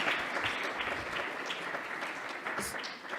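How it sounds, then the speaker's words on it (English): Sustained audience applause fills a hall after a talk on tales of the Ramayana at a devotional gathering, steady dense clapping at moderate level with no voices over it. "Let's give another round of applause for Prabhu for that wonderful class"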